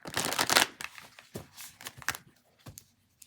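Tarot cards being shuffled close up: a quick riffle burst, then several softer slides and taps of the deck in uneven bursts.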